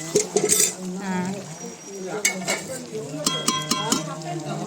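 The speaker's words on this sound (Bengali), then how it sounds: "এই যে আলু ভাজা মাংসটা ঢেকে দিলাম" A pot of mutton curry with fried potatoes is covered with its lid, giving a few quick metallic clinks and scrapes near the end over kitchen clatter, with a person talking at the start.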